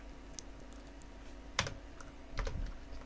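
Sparse keystrokes on a computer keyboard while entering programming code, a few isolated clicks and a short burst over a steady background hum.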